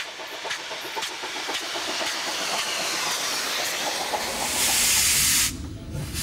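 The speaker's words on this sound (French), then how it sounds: "Les grosses 142 série 12 autrichiennes étaient réputées pour leur échappement très bruyant" An Austrian series 12 (142) steam locomotive with a notoriously loud exhaust chuffs in rapid rhythmic beats under a steady hiss, then a loud burst of steam swells near the end before cutting off.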